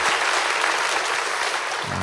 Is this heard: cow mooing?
no